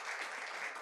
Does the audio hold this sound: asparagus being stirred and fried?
no